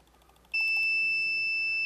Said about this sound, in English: we get a very nice sound saying, I tried too many times